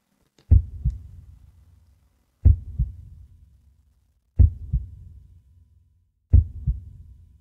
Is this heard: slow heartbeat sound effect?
yes